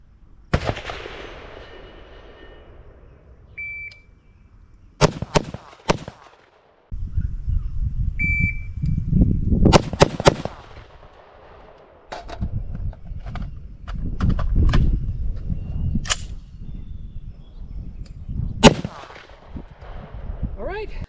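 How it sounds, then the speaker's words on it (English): A PSA JAKL 8.5-inch 300 Blackout fires Hornady 124 grain American Gunner ammunition outdoors, loud sharp reports with ringing echoes, first a single shot and then a rapid string of repeated shots. Wind and handling noise fill the gaps. "So we've been shooting this 124 grain American gunner ammunition from Hornady"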